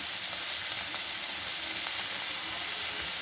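Steady frying sizzle of ridge gourd and potatoes in a pan as green chili paste goes in, a dense, even hiss holding close and loud throughout with no voices.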